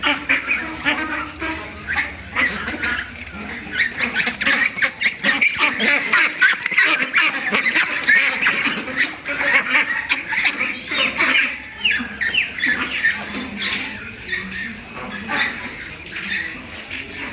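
A flock of Pekin Star ducks raised on a farm for sale quacks and squawks continuously, a loud, dense chorus of overlapping calls close by with some faint human voices mixed in.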